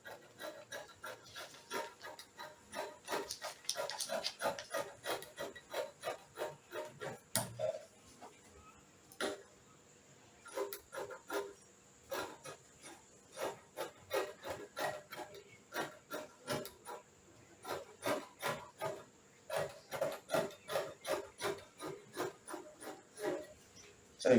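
Scissors cut through fabric for a ruched skirt in a quiet room, a rhythmic series of soft, crisp snips and rasping strokes, close and fairly faint, with a brief pause midway.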